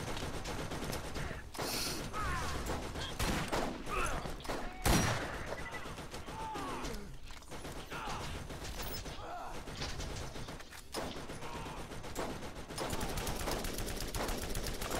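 Gatling turret fire in the video game Borderlands: sustained dense rapid gunfire with mechanical rattling and creaks, bursts continuing throughout at fairly steady loudness, with a sharp louder crack near the middle.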